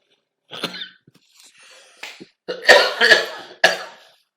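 A person coughs several times close up, short harsh bursts clustered together with quiet breaths between them.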